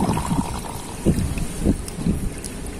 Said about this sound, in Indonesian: pada saat tertentu nanti akan ada udara tersedot ke bawah